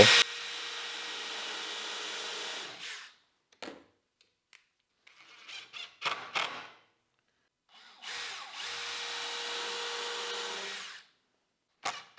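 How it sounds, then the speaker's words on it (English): A power drill boring a hole while setting up a table saw: a long whining run at the start, short bursts and taps in the middle, then another sustained run, close and loud with no speech. "I'm going to drill a different hole."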